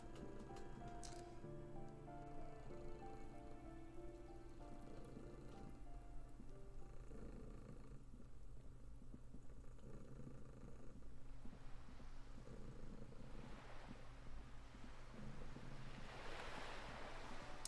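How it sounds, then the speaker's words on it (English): Rain and water ambience in the video game Disco Elysium: a soft, continuous wash of rainfall and lapping water, faint and steady, with a low droning bed and occasional gusty swells toward the end. "I do really enjoy the water sound effects as well."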